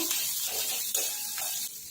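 Green chili and onion sauté in a pan for veg spring rolls, giving a steady soft sizzle with a few louder stirring scrapes, moderately close and without voices.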